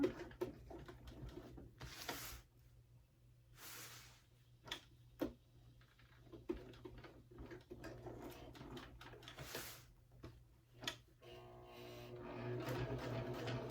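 A budget sewing machine runs a back stitch on a Harlequin wristlet bag, giving short bursts of mechanical whirring and ticking with a few clicks between them. The bursts are close and moderately loud.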